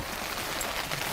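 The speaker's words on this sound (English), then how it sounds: "Raining pretty good." Steady rain falls outside a garage, a continuous close hiss of drops hitting surfaces with no voices.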